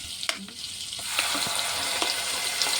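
Masala paste hits hot oil and butter in a kadhai for paneer masala, bursting into a loud, close, steady sizzle after a few soft clinks and stirring sounds.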